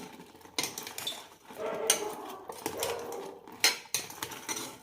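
Thaen mittayi balls are stirred into hot sugar syrup, giving irregular scraping and clinking of a spoon against a metal pot, with short bursts separated by quiet gaps.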